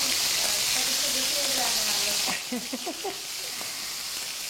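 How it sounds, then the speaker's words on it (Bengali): Soft dried chapa shutki fish fries in a pan, giving a steady broadband sizzle that softens after a couple of seconds into quieter crackling with a few light stirring knocks. "চ্যাপা শুটকিটা যেহেতু খুব নরম শুটকি, ভাজতে ভাজতেই দেখবেন যে এটা একদম গলে গলে গলে গলে আসছে"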